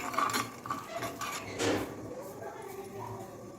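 A spoon clinks and scrapes against a glass or bowl while stirring rose essence and red food colouring into syrup for a watermelon drink, a few close metallic taps over faint background noise.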